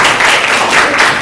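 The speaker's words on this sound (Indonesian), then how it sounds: "terima kasih, tepuk tangan dulu." A class applauds in a dense, steady burst of clapping, close and loud, over a short moment.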